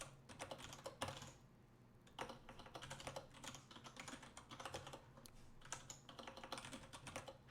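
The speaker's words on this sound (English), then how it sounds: "I hope you guys appreciate my incredibly twitchy typing." Quick bursts of keyboard typing, clattering keystrokes in uneven runs with brief pauses between them, close and fairly quiet.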